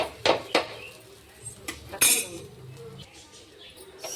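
An egg roti omelette is lifted out of a pan, with a few sharp metallic clinks and knocks of a utensil against the pan, close by, separated by quieter scraping moments.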